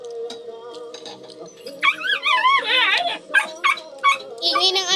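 A household dog close by yips, barks and whimpers in a string of high wavering cries, rising in intensity partway through, with some voices talking in the background.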